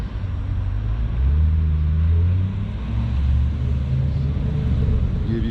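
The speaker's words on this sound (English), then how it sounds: "Give you a look of the cars driving by." Hot rods roll past at a Hooters and Hotrods car show in Sanford, Florida, their deep engine rumble swelling and fading loud and close in a steady outdoor stream of traffic.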